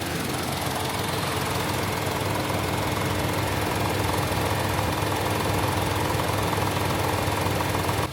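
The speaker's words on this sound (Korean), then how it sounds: "엔진 소리 한번 들어보러 이동 이동하실게요" A Kia Ray 2020 two-seat van's small engine idles steadily with a constant low rumble and faint knocking, close and unbroken throughout.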